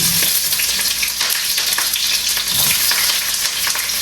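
Onion sizzling in hot oil with star anise, black cardamom, cloves and bay leaf, a loud, dense crackling fry with stirring scrapes throughout, heard up close with no voices.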